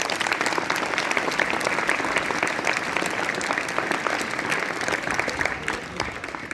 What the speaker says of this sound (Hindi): आप अपने लिए एक बार जोरदार तालियां बजा दें।